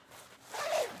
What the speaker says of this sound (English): It's a cinched up bag, so it's got this zipper right here.